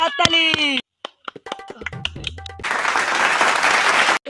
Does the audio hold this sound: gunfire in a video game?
no